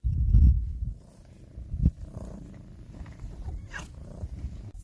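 A cat's low, rumbling purr pulses close by, strongest at the start, with soft rustles and a faint thump, no talking.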